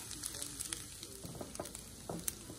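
Ground beef and rice frying in a pan with garlic powder and salt, a soft, fairly quiet sizzle with scattered scraping stir strokes and light pops, no talking.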